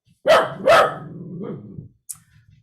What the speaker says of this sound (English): Sorry, my dog is going crazy.